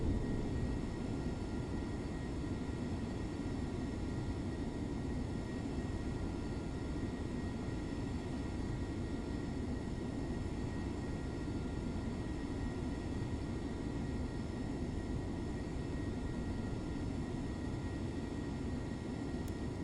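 A simulated F-22 Raptor jet idles with brakes held in Microsoft Flight Simulator 2024, a faint, unbroken whooshing drone holding at one even level throughout, with no voices.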